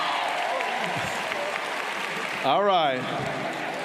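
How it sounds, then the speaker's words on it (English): Audience at a high school graduation ceremony claps in a steady, dense wash of applause throughout, with a voice briefly speaking over it. "Let's give it up for Akash."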